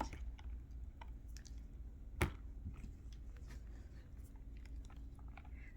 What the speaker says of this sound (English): Sounds like you were chewing.